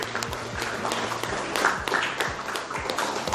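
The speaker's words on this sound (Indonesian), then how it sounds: "Tepuk tangan dulu." Applause from a school audience at a journalism training event at a state senior high school in Palembang, a steady dense patter of many hands clapping at moderate loudness throughout.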